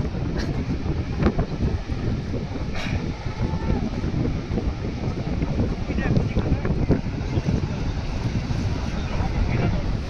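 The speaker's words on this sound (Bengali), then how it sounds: "প্লাস খুব সুন্দর হাওয়া দিচ্ছে।" Wind blows across Bakkhali sea beach in the rain, buffeting the microphone with a steady, loud roar throughout while a person speaks.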